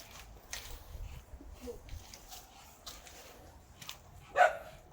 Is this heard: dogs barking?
yes